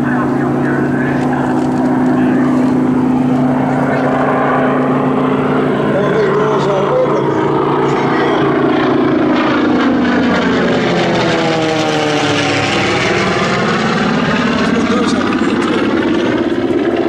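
A TBM Avenger torpedo bomber passes by at an air show with its bomb bay doors open, its propeller engine droning loud and steady, then rising and falling in pitch as it sweeps past overhead.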